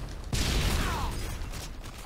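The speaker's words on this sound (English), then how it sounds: "Who's shooting me?" Gunfire in Modern Warfare 2 during a Ground War Domination match on the Rundown map: a sudden dense burst of rapid shots starts early and keeps rattling loudly to the end.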